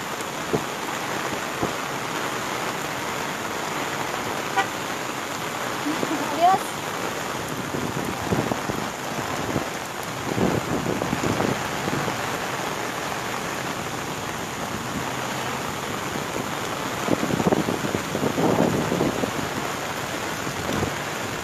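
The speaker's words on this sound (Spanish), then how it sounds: "Hace unos momentos también estaba la lluvia un poco ligera, ya aumentó más la lluvia" Heavy storm rain pours steadily and loudly as a continuous hiss, intensifying from an earlier light shower, with a few louder bursts near the end.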